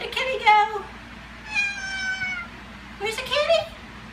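A kitty meows three times in drawn-out, wavering calls spaced evenly apart, close and clear against a quiet room.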